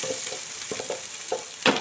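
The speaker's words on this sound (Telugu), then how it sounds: "ఉల్లిపాయలు 4 గోల్డెన్ కలర్ వచ్చేలా ఫ్రై చేసుకోవాలి" Sliced onions frying in hot oil until golden for chicken pulao, a close steady sizzle with a few soft stirring scrapes and a louder clack at the end.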